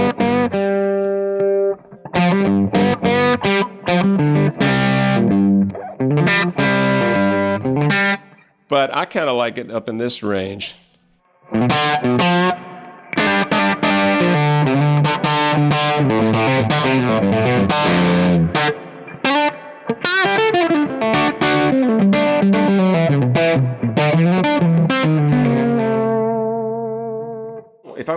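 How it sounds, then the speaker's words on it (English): Guitar played through a PRS DGT 15 amplifier with reverb rings out in clear, sustained notes and chords with a lingering tail, broken by short pauses, and someone briefly speaks between phrases. "There's not much that reverb doesn't make better for me."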